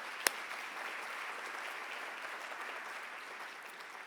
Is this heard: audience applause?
yes